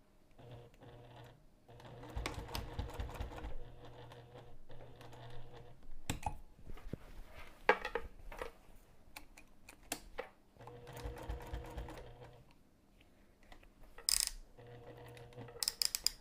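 A sewing machine stitches straight across a bag's side tab in several rapid whirring runs with pauses between, its needle chattering steadily up close, with small clicks and handling noises in the gaps.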